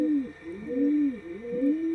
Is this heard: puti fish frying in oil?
no